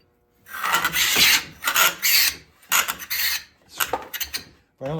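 Hand scraper plane drawn across wood with a thin blade, giving a series of harsh, rasping scrapes in uneven strokes, loud and close, with short pauses between passes.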